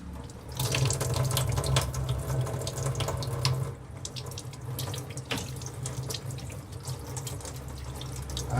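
Tap water runs steadily into a sink while wheat flour dough is washed to leave the gluten, a close, continuous splashing stream that drops slightly in level partway through.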